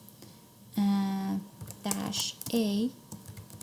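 Keys clatter as a sudo iptables command is typed on a computer keyboard, brief clicking bursts running under a person's steady explanatory talk.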